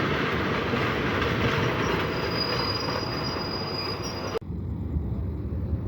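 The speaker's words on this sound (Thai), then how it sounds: "ขณะนี้กำลังเข้าจอดเทียบในชานชาลาที่ 2 ของสถานีรถไฟสารยาแล้วนะครับ" A suburban train rumbles into platform 2 of Salaya railway station, Thailand, its wheels squealing steadily, then the noise drops off abruptly with a sharp clunk.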